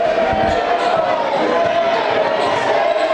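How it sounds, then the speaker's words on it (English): A basketball crowd in a high school gym at a boys' JV and varsity game razzes a player with an air ball cheer, a steady loud roar of many voices with a sustained chanting tone running throughout. "They're giving a little air ball cheer to Dante."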